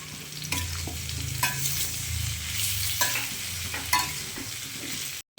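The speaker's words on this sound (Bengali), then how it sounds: "এরপর টমেটোটা দিয়ে আর একটু সাঁতলাবো।" Mixed vegetables with tomato sautéing in a pan, with steady frying sizzle and repeated spatula stirring scrapes throughout; no talking.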